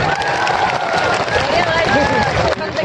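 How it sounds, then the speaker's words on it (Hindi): A crowd at an outdoor political rally in Baroda Meo, Rajasthan, applauds loudly and continuously, with mixed cheering and a babble of voices woven through the steady clapping. "एक बार जोरदार ताली"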